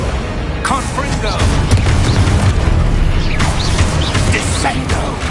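Confringo fire-blast spell explosions in the Hogwarts Legacy video game during combat: dense, loud booming bursts and low rumbles layered with whooshing spell effects, continuous game battle noise with voices mixed in.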